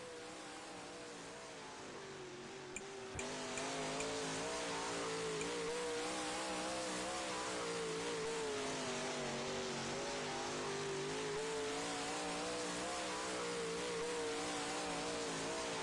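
A race car engine holds a steady, loud, droning note during laps, the pitch wavering slightly with throttle changes and no voices over it.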